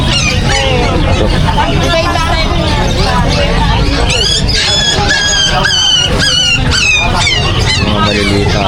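Small dogs yelp and bark in short, rising bursts at a busy Friday open-air market in Bocaue, close by and repeated, layered over a constant loud crowd babble and chatter.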